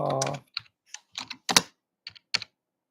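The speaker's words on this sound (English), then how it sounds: "I'm going to go ahead and type it in." Keys are typed on a computer keyboard in short irregular clusters of close, crisp clicks separated by brief pauses, following a moment of room noise at the start.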